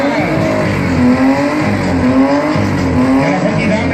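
Monster truck at a show in Weil am Rhein, its engine held at a steady high rev with a screaming exhaust and tire noise, loud and continuous throughout, with crowd or talk faintly underneath.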